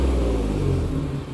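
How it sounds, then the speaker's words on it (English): A 2019 Ford Raptor with a modified, throatier exhaust revs hard up close, a loud, deep, continuous engine roar that eases off slightly at the end. "So we'll go ahead and rev the engine real fast so you can hear that."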